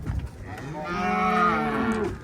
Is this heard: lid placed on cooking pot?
no